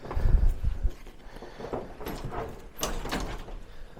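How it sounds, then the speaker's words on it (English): A hotel lift's sliding door rattles and scrapes in a few uneven bursts, close by with creaky floor sounds around it. "This is interesting, this is the lift. Slidey door lift."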